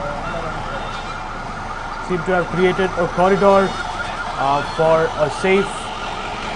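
An ambulance siren wails in a steady, loud, repeating rise-and-fall pattern, close by and moving in a convoy with police amid fans and tight security, while a news voice talks over it.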